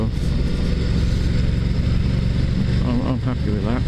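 Ducati XDiavel motorcycle engine pulling hard under acceleration, a loud steady low roar with rising pitch sweeps near the end, heard close from the rider's position with wind noise.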